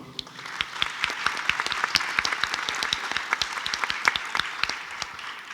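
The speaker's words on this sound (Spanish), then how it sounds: "Un aplauso, por favor." An audience at a literature panel of a book festival applauds, with sharp, distinct claps that rise into steady, sustained clapping lasting several seconds, loud and close, with no talk over it.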